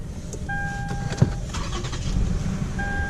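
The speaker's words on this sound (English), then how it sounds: "And that's the V6 naturally aspirated" A 2009 Lexus ES350's naturally aspirated V6 engine cranks and catches, settling into a steady idle with a faint electronic chime ringing over the low rumble.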